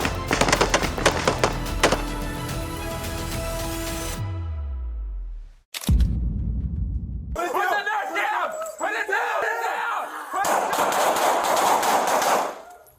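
Bursts of gunfire in a police confrontation with a suspect, a rapid volley of loud shots followed by a sharp cut, then scattered cracks and chaotic noise with shouting-like crowd sounds.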